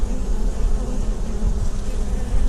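Dense, steady buzzing of many honeybees up close at the hive, a continuous droning hum with no voices.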